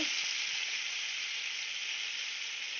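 Chili paste hitting a hot pan and frying, a loud continuous bright sizzle held steady throughout, close up with no talking.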